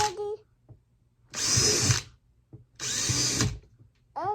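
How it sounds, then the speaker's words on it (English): A power drill boring holes through the sides and bottom of a worm bin, heard in two loud, sustained whirring bursts with quiet gaps between, and a voice speaking briefly at the start and end. "So we're going to drill holes all through the sides and the bottom and get our worm bed started."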